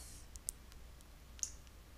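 Two sharp, quiet computer mouse clicks about a second apart, set against a faint hum in an otherwise still room.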